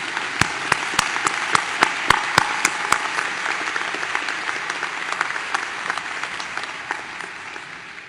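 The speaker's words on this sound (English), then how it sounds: "Please join me in giving him a round of applause." A convocation audience applauds for a graduate, with a few sharp, close single claps over a dense crowd clapping that slowly thins toward the end.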